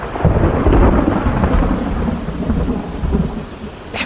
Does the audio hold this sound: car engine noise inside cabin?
no